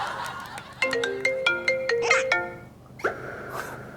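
A mobile phone ringtone plays a quick melodic run of bright, beeping notes for about a second and a half, then cuts off, heard over low background noise with a brief voice-like burst afterward.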